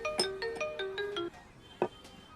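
A phone ringtone chirps in a short melodic run of bright tones, a quick phrase followed by a single repeated note after a pause, fairly soft and close with no talk over it.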